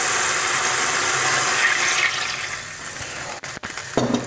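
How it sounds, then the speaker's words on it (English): Water pours into a pan holding a syrupy wine reduction, a steady rushing splash close by that drops off partway through, then small sizzles and clinks. "so we have to get some water in there now"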